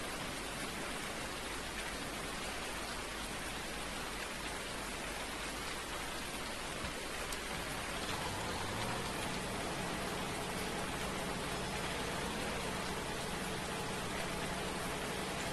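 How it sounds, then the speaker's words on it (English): Steady rain falls in the Farming Simulator game on Spectacle Island, a dense, even hiss of drops that holds for the whole stretch, with a faint low rumble shifting partway through and no voices. "And it's raining."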